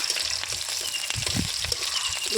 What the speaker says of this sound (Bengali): আমি কড়াইতে তেল দিয়ে দিচ্ছি, ওর মধ্যে একটা বড় পেঁয়াজ দিয়ে দিলাম, দেওয়ার পর একটু তেজপাতা দিয়ে দিলাম কটা